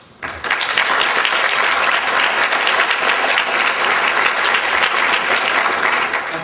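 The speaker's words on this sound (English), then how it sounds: "Please join me in a round of applause to congratulate these FFA members for their participation in the State Fair." A banquet audience at a high school FFA awards night bursts into sustained applause honoring members, steady and loud for several seconds after a brief quiet start.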